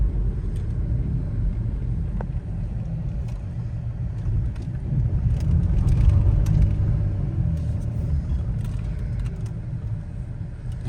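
A Dodge Challenger SXT drives along with a steady, loud low engine and road rumble that swells slightly midway, heard from inside the car, with no talk.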